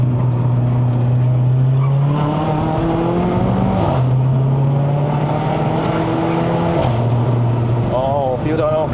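Stage 2 tuned C117 Mercedes-AMG CLA45 engine revving up and dropping through gear changes on a mountain road run, a loud steady drone whose pitch climbs and falls with each shift, heard from inside the car.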